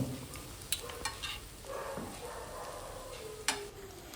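Veg hakka noodles being stirred with pepper powder in a pan, a soft steady sizzle under scraping spatula strokes with a few sharp clinks against the metal, close and moderately quiet.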